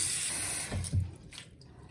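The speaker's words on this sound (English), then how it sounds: "Now all I'm doing is filling this with water" Cold water runs from a tap into a container, filling it to soak lilac blossoms. The steady rushing flow is heard close up, with a couple of low thuds partway through and a softer trickle toward the end.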